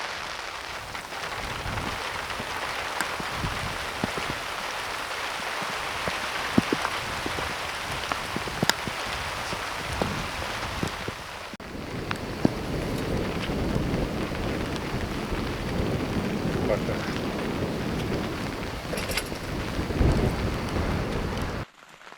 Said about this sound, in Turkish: Yağmur iyice arttı mı?